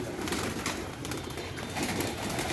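Pigeons near a bird-catching net coo faintly within dense, steady background noise, the calls low and partly masked rather than standing out clearly.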